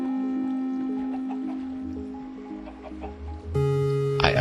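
Minecraft chickens cluck softly inside a mob grinder and cactus harvester, a few scattered bird calls over a steady droning game hum, then a sharper burst of clucking near the end.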